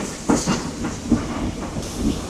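Passenger train heard from the balcony of a first-class carriage on a heritage rail line, a steady rolling rumble and hiss with repeated wheel clacks over the rails, fairly close, no voices.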